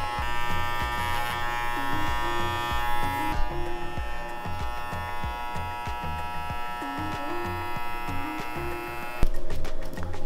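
Electric hair clippers buzz steadily while shaving the back of the head low near the nape for an undercut, a close continuous whine with shifting tone as the blades move, ending in a brief louder scrape.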